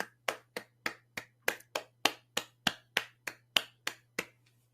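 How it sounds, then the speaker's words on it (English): A single person claps about fourteen times in a steady, evenly spaced rhythm, each clap sharp and close, with a faint low hum underneath and no talk. "Everyone give yourself a round of applause"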